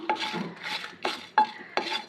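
Masala spices dry-roasting in a pan for chicken maharani, stirred in five quick scraping strokes with rhythmic gritty rasps, close and moderately loud with no talking.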